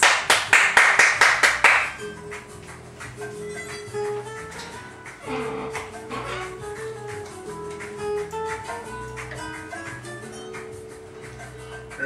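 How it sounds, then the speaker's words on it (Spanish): A quick burst of rhythmic hand claps opens, about a dozen sharp claps over two seconds, then music continues underneath. "¡Fuerte las palmas!"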